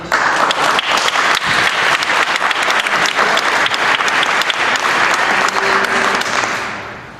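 Loud, sustained applause fills a city council meeting room after a public speaker finishes, dense and close, then fades out over the final second.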